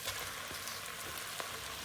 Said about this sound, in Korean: 준비해둔 고기를 넣겠습니다